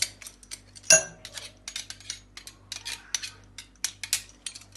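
Garlic being stirred into vegetables in a dish, with a spoon clinking and scraping against it in a quick, irregular run of close, bright metallic taps, one sharper knock early on, over a faint steady hum.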